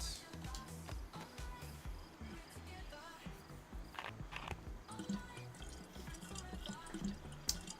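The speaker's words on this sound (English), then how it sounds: "Go ahead and fill up the 1 water bottle that we got." Water trickling and dripping into a bottle at a water source in the survival video game DayZ, a steady watery patter with faint insect chirps in the background.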